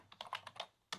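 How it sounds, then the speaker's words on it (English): Quick, close bursts of typing on a computer keyboard during an online meeting, about eight soft clicks in an uneven rhythm with a short pause near the end, and no voices. "what Tracy's typing"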